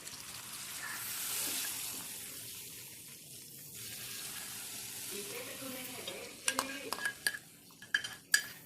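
Hot tempering poured into carrot tomato rasam in a home kitchen: a soft sizzle and bubbling at first, then sharp clinks of a metal pan and ladle near the end, fairly close.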